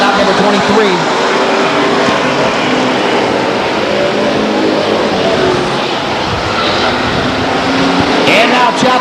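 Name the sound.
street stock race cars racing at Stockton 99 Speedway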